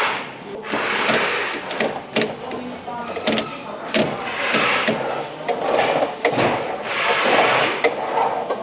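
Land Rover Defender windscreen wiper motor whirs and clunks in a repeating mechanical rhythm, with sharp knocks as the wipers sweep, close up inside the vehicle with faint talk.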